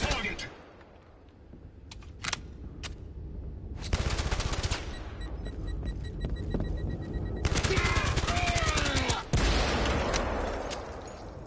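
Gunfire in the VR shooter Blood & Truth: bursts of rapid automatic fire and single shots, loud and close, in several clusters with short gaps between them.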